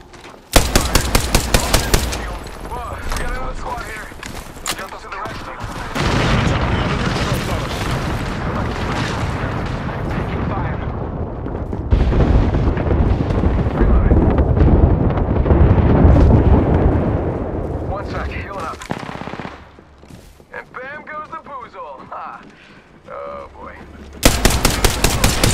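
Video game gunfire in a shooter, with dense rapid bursts of automatic fire and heavy booming shots going on almost continuously, loud and close, broken by brief lulls.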